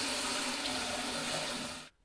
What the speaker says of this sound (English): I'm going to fill it up with hot water and I'm going to give it a good shake